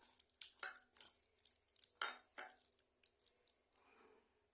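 Chicken pieces for pakora are worked by hand with chilli powder and spices, giving soft, wet squishing and light clicks in short irregular bursts, close and fairly quiet with brief pauses between.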